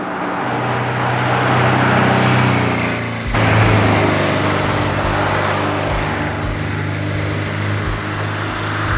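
Porsche 912 with a small four-cylinder engine driving alone on a mountain road, a steady loud engine drone with a brief shift dip near three seconds, then continuing road and engine roar with low thumps.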